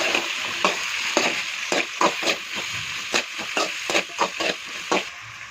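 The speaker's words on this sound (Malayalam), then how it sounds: "ഇതൊന്ന് വഴറ്റിയെടുക്കാം" Okra, onion, green chili and garlic sautéing in a pan, with a steady sizzle broken by repeated scraping stirs at a fairly even rhythm, close and clear with no talking.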